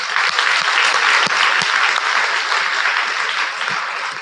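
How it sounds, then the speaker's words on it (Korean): A church congregation applauds at a worship service, steady broadband clapping filling the room from start to finish, close and loud with no speech over it. "이 은혜를 주신 하나님께 영광의 박수를 올려드리겠습니다"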